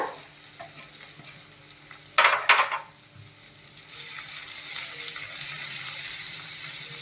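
Finely chopped onion goes into a pan with oil and chillies for cashew curry; a couple of sharp clanks are followed by a rising, steady hiss of frying.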